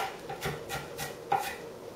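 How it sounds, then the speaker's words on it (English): A knife chops onion finely on a board to make guacamole, giving a handful of soft, evenly spaced taps close by with quiet gaps in between and no talking. "And then just kind of give it another chop so it's nice and fine"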